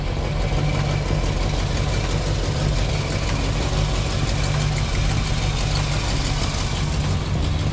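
A 1965 Ford Galaxie engine runs steadily at close range, a loud continuous low rumble with an even throb and no talking.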